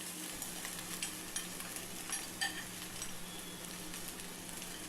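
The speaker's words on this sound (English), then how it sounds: "Saute this for some time and add 600 grams of cooked rice" Capsicum, onion and cooked rice saute in a pan, giving a quiet, steady sizzle with light scraping and soft stirring ticks scattered throughout, close by, with no voices.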